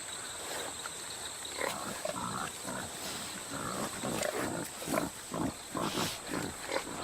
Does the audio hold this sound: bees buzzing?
no